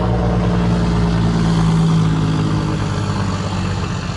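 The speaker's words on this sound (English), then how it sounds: "Engine brakes coming down the hill." A truck's engine brake on a downhill stretch, a loud, continuous low, throaty rumble with a steady pulsing drone that holds for several seconds.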